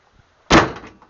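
A Morris Minor car door shuts with a single solid slam, loud and close, its thud fading into a brief rattle and a small knock just after, with no talking.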